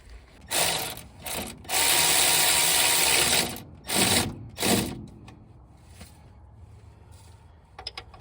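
A socket ratchet clicks in several quick bursts while working on an old Dodge Dakota, with one longer sustained ratcheting run and shorter clicks after, close and sharp, followed by quiet shop noise.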